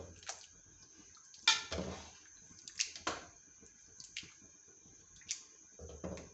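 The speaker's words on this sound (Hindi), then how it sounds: "चम्मच से हम हल्का हल्का सा इसको मैश करेंगे।" A spoon presses and mashes cooking carrots in a pan for gajar halwa, giving soft wet squishes and clinks in an irregular rhythm, quiet and close with no talking.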